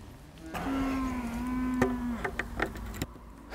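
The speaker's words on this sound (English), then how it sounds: "Cows are saying good morning." A single cow moos once in a long, low drawn-out call at moderate distance, followed by faint clicks and outdoor background noise.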